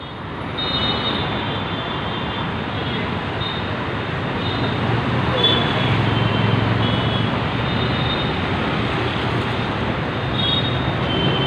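A steady, heavy rumble of a tram rolling along tracks into the Gariahat tram depot, continuous and fairly loud, with faint high squeals riding over it.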